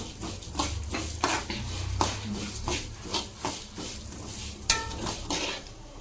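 Coriander seeds, fenugreek and cumin are dry-roasted in a pan and stirred with a metal spoon that scrapes and clinks in a steady repeated rhythm, close and fairly quiet, with no talk.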